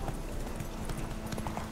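Horse hooves clip-clopping in The Witcher 3, a quick steady run of hoof beats on hard ground, close and fairly loud over a soft wash of ambient noise.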